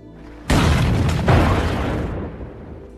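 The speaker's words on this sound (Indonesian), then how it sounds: "ternyata suara ledakan ini berasal dari kendaraan mereka" A sudden loud vehicle explosion booms after a brief quiet, followed by a long rumbling roar that slowly fades.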